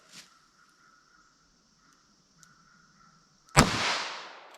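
A single sharp gunshot from a Lapua .32 S&W Long wadcutter round cracks loudly near the end and rings out in a decaying tail, following near-silence broken only by a faint steady hum.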